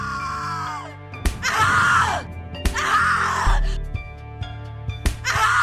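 Anguished screaming and groaning in the horror game The Cat Lady, several long drawn-out wails rising and falling, loud and close, with harsh sharp clicks between them.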